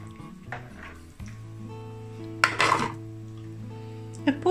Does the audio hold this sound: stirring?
yes